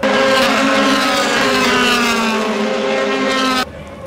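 A loud DTM race car engine roars at high pitch, rising steadily as it passes close by at a 2015 Moscow race, then abruptly drops away into quieter background noise.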